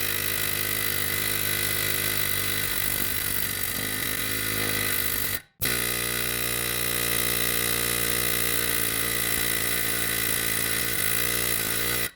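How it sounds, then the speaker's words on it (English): A loud air hammer rattles continuously on a 2016 Subaru Impreza wheel hub during wheel bearing replacement, in two long bursts separated by a brief pause, harsh and close. "Get the biggest air hammer that you have"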